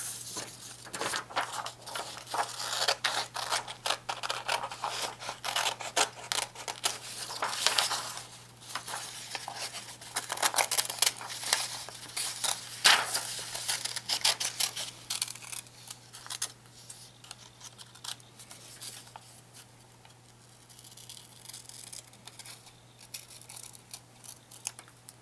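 Scissors snip through paper while cutting out the eyes for a 3D paper chameleon sculpture, giving a run of close, crisp cuts and rustles with a steady low hum underneath.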